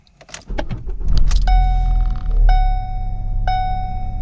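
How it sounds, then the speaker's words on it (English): A Ford Focus with a new battery starts and settles into a steady low engine idle, with a few clicks and rattles at first and three evenly spaced electronic chimes ringing over the rumble. "Now I am going to let this sit here and idle a bit and get that battery a good charge on."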